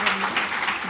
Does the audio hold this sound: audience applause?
yes